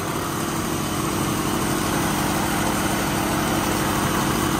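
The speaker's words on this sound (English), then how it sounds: "It's idling." A steady, close, loud idle from a 1973 Chevrolet Nova four-door that had been parked for 32 years, with an even engine drone running unbroken throughout.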